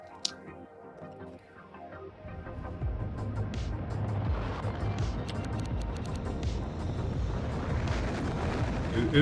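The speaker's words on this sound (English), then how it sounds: "It is launching a lot of rockets here for some reason." Rockets launch in a modded game of Factorio. A deep rumble swells from near quiet into a sustained roar, with scattered ticks and clicks on top.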